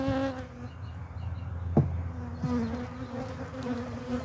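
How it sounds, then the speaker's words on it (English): Angry honeybees swarming around Layens hives, a dense, close, continuous buzzing with wavering pitch from many insects filling the whole moment. "I can't tell which of these bees who are enraged by me are from which hive now."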